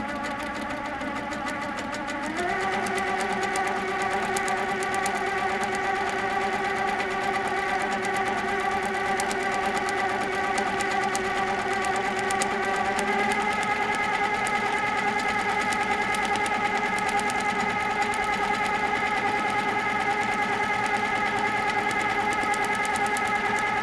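A sewing machine free-motion quilts a painted surface with Australian designs: a steady, close mechanical whir runs the whole time, its pitch stepping up a little twice as the speed increases, with no talk.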